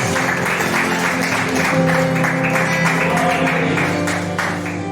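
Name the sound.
congregation applauding God in church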